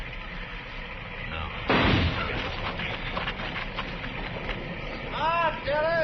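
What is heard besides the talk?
gunshots in an old-time radio drama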